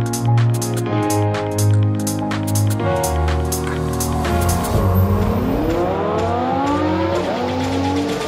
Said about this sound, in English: As the engines roared, the cars waited for the flag